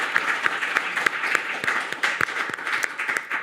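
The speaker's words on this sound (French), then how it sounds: "un tonnerre d'applaudissements pour Claire" A crowd applauds Claire at the close of a French talk-show segment on drugs in France, a dense, steady round of clapping with sharp individual claps standing out, sustained throughout.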